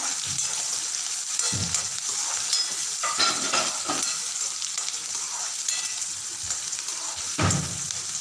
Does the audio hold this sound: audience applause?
no